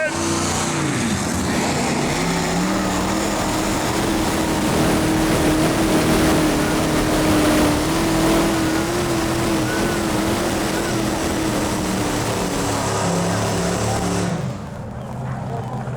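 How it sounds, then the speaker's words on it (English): A modified tractor's engine, 7,500-pound class at a tractor pulling competition in Austin, gives a loud, sustained roar that holds steady for about fourteen seconds, straining under heavy load, then drops off sharply near the end. "he's into some heavy-duty pulling here this afternoon in our largest modified tractor division"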